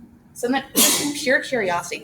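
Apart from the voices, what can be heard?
sneeze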